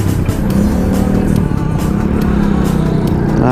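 Road traffic jam with cars and motorcycles heard from within, a steady loud rumble of idling and crawling engines, with a near motorcycle revving over the dense hum.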